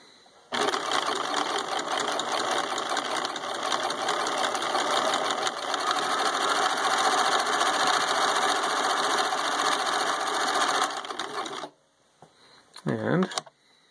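A Husqvarna Viking 6570 sewing machine runs a zigzag pattern for about eleven seconds in a steady, loud, fast mechanical chatter, then stops, followed by a short burst of speech.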